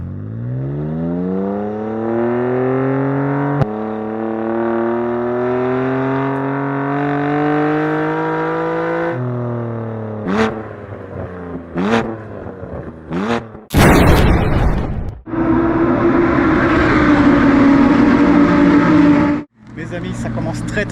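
Audi R8 GT4 race car at the Dijon-Prenois circuit, engine revving and climbing through gears with sharp shifts, then a loud burst and roaring pass, heard from onboard under steady talk.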